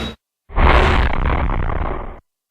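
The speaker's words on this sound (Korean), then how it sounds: "바로 등 뒤에서 폭발이 일어나는 위험한 순간도 매 순간 맞닥뜨립니다" Behind firefighters at a fire scene, a heavy explosion erupts after a brief cut, a loud, close roaring blast that sustains for nearly two seconds before stopping abruptly.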